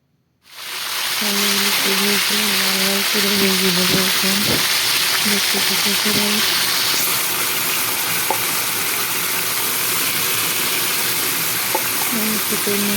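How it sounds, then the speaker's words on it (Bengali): Bay leaves crackle and sizzle loudly in hot oil in a wok, a steady frying hiss with a low hum underneath throughout. "এখানে কড়াইতে তেল দিয়ে দিলাম তেজপাতাও দিয়ে দেব"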